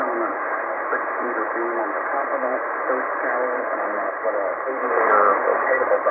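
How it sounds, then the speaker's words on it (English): Steady band-limited static hiss from a Sangean ATS-909X2 radio receiver on LSB fills the whole stretch, with faint voice-like warbles buried in the noise and a slight swell near the end. "there's less high-pitched hiss in the noise"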